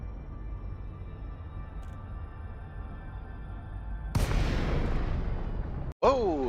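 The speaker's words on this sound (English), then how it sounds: "Oh, explosions." Explosions go off in the space game Elite Dangerous, a sudden loud burst followed by a roaring, crackling rumble after a quiet, humming stretch, with no talking.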